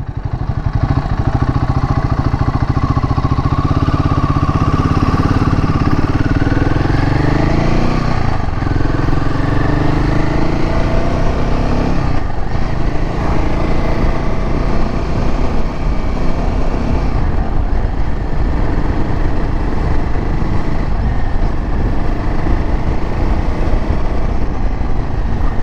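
A Royal Enfield Himalayan 450 motorcycle being ridden, its engine a loud, steady close drone with pitch rising and falling through gear changes and wind rush underneath.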